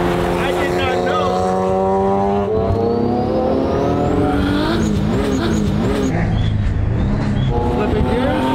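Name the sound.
car accelerating while shifting gears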